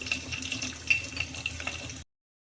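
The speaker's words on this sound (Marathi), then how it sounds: "मोहरी तडतडायला लागली" A quiet, steady sizzle with small scattered pops and crackles of mustard seeds spluttering in hot oil close by.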